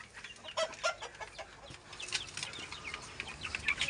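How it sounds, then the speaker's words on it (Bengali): Chickens kept in a banana garden in Malaysia cluck and chatter in repeated bursts, fairly close and clear against a quiet outdoor background, with no talking. "গাইস আমাদের মুরগিও আছে।"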